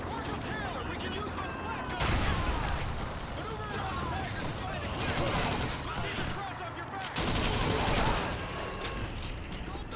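Rapid bursts of MP44 gunfire in Call of Duty 2, dense repeated shots and fusillades in several loud waves amid ongoing battle noise, with someone talking over it.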